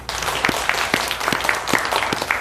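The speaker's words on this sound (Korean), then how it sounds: "여러분 박수 한번 쳐주십시오." Audience applause at a Christian Liberty Unification Party political gathering, a short burst of close, sharp claps over a steady crowd wash.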